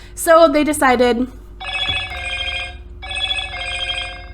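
A phone rings twice in steady electronic bursts after a short stretch of someone talking, the rings clear and close in a quiet room.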